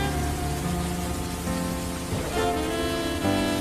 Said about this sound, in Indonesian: dengan tetes demi tetes air hujan yang terus mengalir